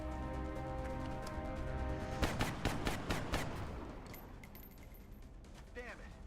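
Bursts of suppressing gunfire in the Long War game, a rapid volley of loud cracks clustered mid-clip and trailing off, with background game ambience and some speech.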